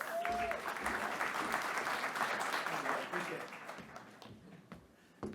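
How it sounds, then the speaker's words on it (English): Warm audience applause at a pitch session for workshop leaders, clapping from a crowd that starts fairly full and gradually thins and fades toward the end, with faint voices mixed in underneath. "warm applause"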